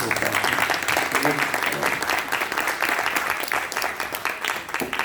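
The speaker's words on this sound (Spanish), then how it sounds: "No se merecen un aplauso" Applause from a church congregation honoring long-married couples, a loud, full burst of many people clapping that continues strongly, with faint voices mixed into the clapping.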